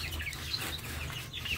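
Young chicks fed a mash of egg, grated carrot and breadcrumb powder, giving soft repeated clucks and high cheeps from a small flock close by, steady and continuous over low background noise.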